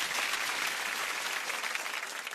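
A studio audience claps in dense, steady applause that holds at an even, fairly soft level throughout.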